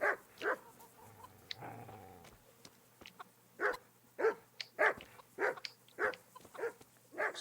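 Dog barking in the medieval role-playing game Kingdom Come: Deliverance, a run of sharp, fairly close barks, a pair near the start then a steady series of about eight, with a brief clatter of game sound between.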